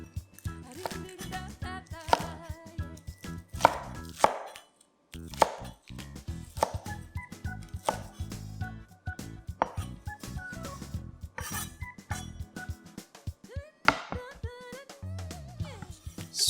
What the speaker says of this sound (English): Cut these up into about 2 to 3 fingers width length.